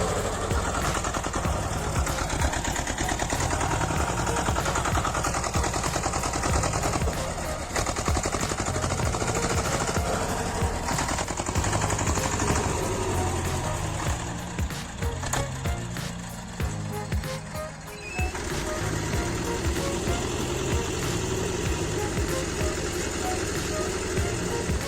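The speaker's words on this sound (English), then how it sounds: "This T25 is struggling in a muddy field while pulling a heavy dirt trailer" A Zetor T25 two-cylinder diesel tractor strains through a muddy field hauling a heavy dirt trailer, its engine chugging loudly and steadily with a brief dip in the middle, overlaid by other mechanical noise.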